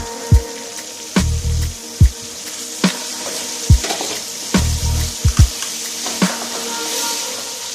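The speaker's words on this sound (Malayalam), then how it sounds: "പുതിന ഇല, മല്ലിയില നല്ലോണം ഒന്ന് ഇളക്കി കൊടുക്കാം." Mint and coriander leaves frying with tomato in a pan, a steady close sizzle broken by several sharp scraping knocks of a spoon stirring against the pan.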